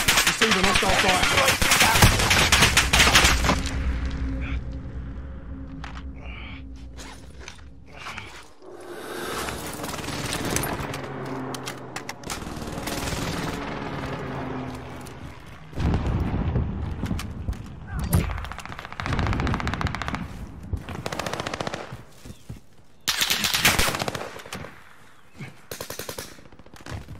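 Bursts of automatic gunfire and scattered shots in a video game match, loud and close at first, then recurring in choppy volleys with game effects between them, no talk.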